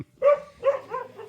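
Dogs at a van-life camp give a few short close barks in a quick burst, loud and alone with no talk over them.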